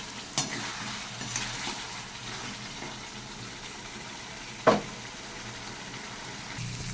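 Spice paste frying in a pan with turmeric and a little water, a soft steady sizzle with occasional stirring scrapes and one sharp clink from the utensil.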